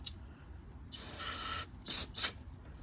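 Aerosol cleaner sprays through the passageways of a 2-stroke carburetor from a jon boat outboard: one long hissing burst, then two short sharp bursts close to the microphone, with no talk.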